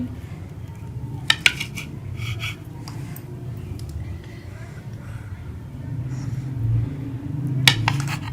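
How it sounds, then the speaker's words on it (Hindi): Boiled eggs are sliced through the centre on a kitchen surface for anda katli, giving a few sharp knife-and-plate clicks and clinks over a low steady background hum, with louder taps near the start and end. "अंडों की कतलियां बनाने के लिए मैं अंडों को काट लूंगी सेंटर से।"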